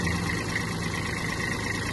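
Hinomoto CX-19 (Kubota A-195) Japanese mini tractor engine idling with the hood open, a steady close diesel rumble and vibration running evenly without speech.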